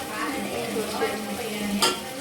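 Soft, continuous sizzling of a spice tempering in hot oil, close by, with a brief clink near the end.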